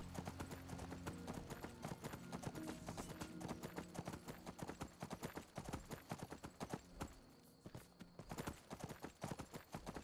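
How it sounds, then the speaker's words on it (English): A horse trots through foggy terrain in modded Skyrim Special Edition, its hooves clip-clopping in a fast, steady, close rhythm that carries through the whole stretch with only faint other sound. "Watching this horse in the fog."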